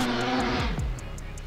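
A naturally aspirated front-wheel-drive Honda drag car revs hard at close range, its engine tone climbing and falling through quick gear changes as it pulls away, the sound fading and thinning toward the end.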